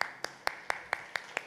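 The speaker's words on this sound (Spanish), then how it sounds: "Un aplauso." Claps from a teacher-training session audience land in a slow, even rhythm, seven sharp hits spaced about a quarter second apart, fairly faint and sparse rather than a full ovation.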